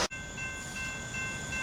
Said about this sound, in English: we got CSX 401, southbound by Selma on the number 2 track, passing by the Selma Smithfield station.